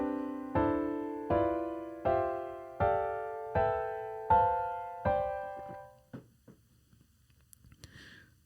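Seven sustained four-note chords, each a triad stacked over a bass note, step upward one after another in an even rhythm, each struck cleanly and left to ring and decay before the next, followed by a few faint clicks and soft noises.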